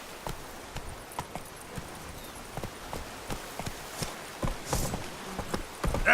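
Roach, a horse in The Witcher 3 video game, with hooves clip-clopping in a steady, evenly spaced rhythm that grows louder and busier toward the end, close and alone with no talk.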